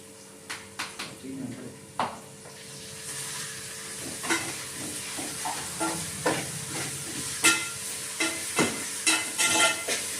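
Ginger garlic paste frying in a pan hisses steadily while a spoon clinks and scrapes in quick, uneven strokes that grow busier, with voices faintly present at times.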